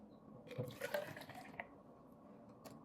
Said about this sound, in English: I like pouring these in together